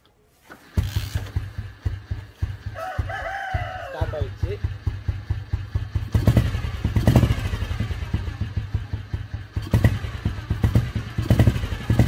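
A Royal Enfield Bullet motorcycle started by hand, with the engine catching early and settling into a loud, steady single-cylinder thump. A rooster crows briefly in the background near the start.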